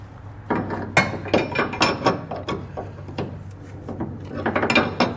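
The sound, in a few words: crescent wrench tightening nut on air helper spring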